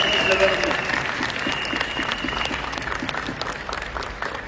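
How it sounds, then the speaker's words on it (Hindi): An audience claps together at a company anniversary celebration, a steady dense patter of applause of even loudness with a few voices mixed in. "अपने लिए तालियां बजा सकते हैं"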